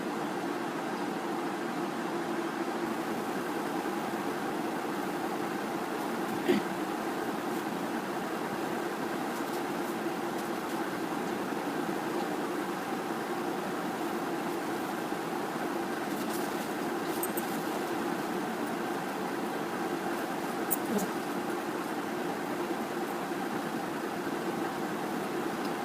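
A sewing machine runs steadily as it stitches the seam of a kite pant, a continuous close-up mechanical hum and whir with faint clicks, with no pauses or talk.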